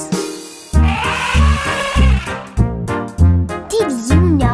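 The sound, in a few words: elephant trunk trumpeting sound in kids' song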